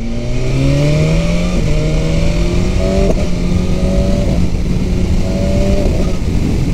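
A 1000RR sport motorcycle accelerating hard on a highway, its engine note climbing steadily and stepping down with each quick-shifted gear change, three or four shifts in a row, loud and close under wind noise.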